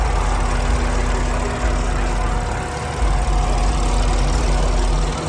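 A turbocharged BMW M3, reportedly making about 825, idles with a steady, loud low rumble that stays close and constant throughout, with a slight dip in the middle.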